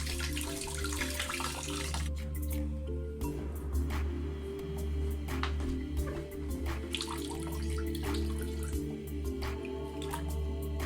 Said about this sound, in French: Ensuite vient le moment de se laver.